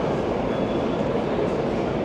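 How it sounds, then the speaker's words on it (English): Moscow Metro trains pull away from an underground platform together, a loud, dense, steady roar of rolling wheels and rushing air with no break. "As both trains clear the platform at the same time."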